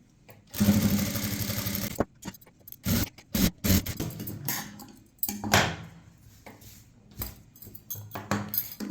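A sewing machine runs in steady bursts while stitching a seam along the edge of blouse fabric, with brief pauses and a few light clicks and handling knocks between runs, fairly close and without talk.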